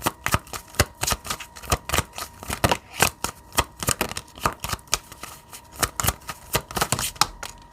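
Tarot cards shuffled by hand in a rapid, steady riffle of crisp slaps and flutters, close and clear with no talk.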